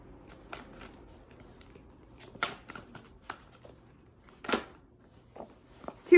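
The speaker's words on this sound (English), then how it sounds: "Let's shuffle out another card to clarify that message." Tarot cards being shuffled in short riffling bursts, several quick papery rustles and snaps spaced over a few seconds, close and moderately quiet with no talking.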